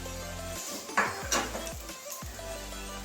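Fenugreek leaf fritters frying four at a time in a pan over very low heat, a steady close sizzle with a few clinks of a utensil against the pan.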